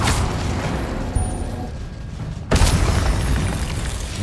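Booming fire-spell explosions in Hogwarts Legacy gameplay, with a loud blast near the start and another sharp crackling burst midway, over a rumbling, noisy game backdrop.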